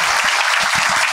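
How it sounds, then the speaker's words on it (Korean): Brief burst of audience applause welcoming a newspaper editor at a morning health lecture, dense and fairly loud clapping from a roomful of people, alone without speech. "크게 박수로 좀 환영해 주시기 바랍니다"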